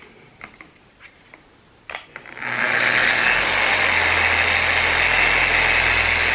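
An Adam's Swirl Killer Mini polisher on speed 1 starts up after a few light clicks and handling knocks, then settles into a steady, even motor whir with a low hum, close and alone.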